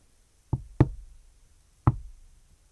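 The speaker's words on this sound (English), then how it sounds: "The knock was simple. 2 knocks that were quick, and one that was slow but hard." Knocking on a door or wall in a quiet room: two quick sharp knocks close together, a pause, then one slower, harder knock, each ringing out briefly.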